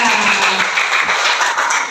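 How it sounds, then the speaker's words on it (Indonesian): Brief burst of group clapping from a fifth-grade class applauding a student group's presentation, a dense, even patter lasting under two seconds. "Tepuk tangan dulu untuk kelompok 3"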